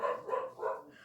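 A dog named Nelson barks a few quick times, faintly and at a distance, in short sharp bursts.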